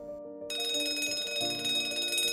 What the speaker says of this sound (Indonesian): Bel sudah berbunyi, tandanya jam kosong telah usai.